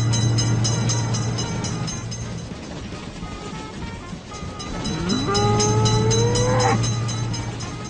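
A train in the video game Railroad Crossing rumbles past a crossing with a steady low drone and clatter, and a horn blares with a rising, bending pitch midway before the rumble continues.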